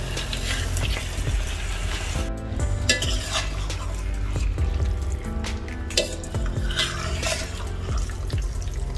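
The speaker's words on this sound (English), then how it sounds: "Mix it slowly." Prawns in a masala curry gravy are stirred in a pan, giving close, steady wet scraping and clinking of the utensil against metal, with a few louder knocks.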